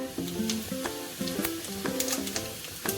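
Cumin seeds sizzle in hot ghee, a soft, continuous crackling fry heard under melodic background music, with no speech.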